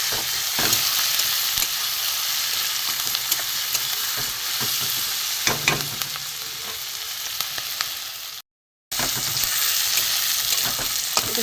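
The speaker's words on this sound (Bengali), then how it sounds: "একটু ভালো করে ভেজে নেব।" Spices, onion, garlic, ginger, chilli and tomato frying in a pan for a dhaba-style egg tadka, a steady close sizzle with occasional stirring scrapes and a brief dropout near the end, no voices.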